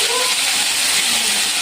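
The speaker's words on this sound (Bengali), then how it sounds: "আর এই তেলের মধ্যে আমি ফুলকপিগুলো ভেজে নেব" Cauliflower pieces frying in hot oil, a loud, close, steady hiss of sizzling with no distinct pops.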